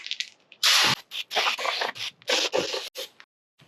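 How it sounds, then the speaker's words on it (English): Several bursts of aerosol brake parts cleaner spray hiss out in quick succession onto oily metal, loud and close, with short pauses between them. "I'm gonna get me some brake parts cleaner, dry up all this oil"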